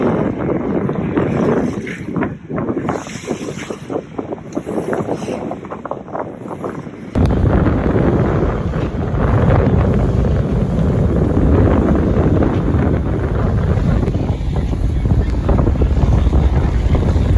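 Strong wind of 40 to 50 knots roaring over a sailboat under way at sea, with water rushing past the hull; the rush grows louder and denser partway through, no talk.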